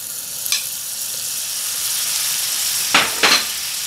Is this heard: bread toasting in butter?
yes